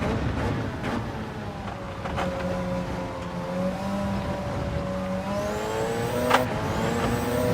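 A Porsche race car on the Le Mans circuit in Gran Turismo 7, its engine droning steadily and climbing in pitch through the gears, with a sharper rise and shift near the end.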